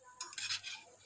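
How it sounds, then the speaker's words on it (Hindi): Bhajiya fritters dropped into a pot of yogurt kadhi and stirred with a metal spoon, giving a brief pair of clinks and scrapes against the pot, soft and close, with no talk. "हम डालेंगे कड़ी में भजिए।"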